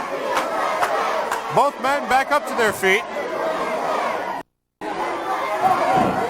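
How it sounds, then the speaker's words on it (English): Wrestling crowd at a Brickhouse Baker vs Tony Atlas match, a steady roar of cheering and chatter with a few raised shouts, under a commentator's voice and broken by a short silent gap. "The crowd here cheering it up."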